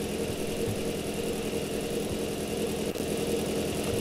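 A car engine idling rough because of a faulty ignition coil: a continuous, fairly loud hum with an uneven, shaky low rumble and one brief dip near the end. No one speaks over it.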